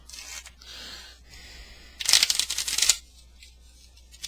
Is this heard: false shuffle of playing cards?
yes